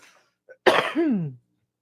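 A single close, explosive sneeze with a sharp burst followed by a short trailing exhale, alone and fairly loud.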